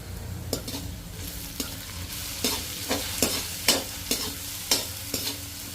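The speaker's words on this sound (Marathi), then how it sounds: "आता आपण याच्यात आवश्यकतेनुसार मिरची आणि लसणची पेस्ट टाकतोय।" Chili and garlic paste dropped onto reddish-browned onion in a hot pan, sizzling steadily while a spoon taps and scrapes the pan in a loose rhythm of sharp clicks, close, no talking.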